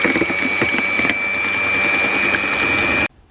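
Egg whites with a quarter teaspoon of baking powder being whisked in a narrowboat kitchen: a steady, close motorised whirr with a constant high whine, running for about three seconds before cutting off.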